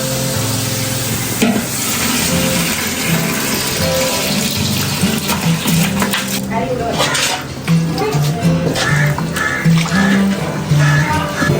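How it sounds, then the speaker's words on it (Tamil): Water bubbling at a boil in a pot for biryani, with a steady broadband hiss and occasional clinks of utensils against cookware. "இப்போ தண்ணி நல்லா கொதிச்சிருச்சு."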